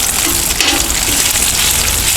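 Steady, dense crackling and hissing of bacon frying on a hot Blackstone griddle, loud and close, with no talking.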